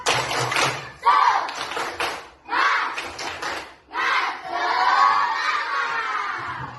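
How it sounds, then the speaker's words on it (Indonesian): Elementary schoolchildren in a classroom doing a rhythmic spirit clap chant, short bursts of group clapping broken by pauses, ending in a sustained shouted cheer from many young voices, close and loud. "Bisa? Tepuk semangat."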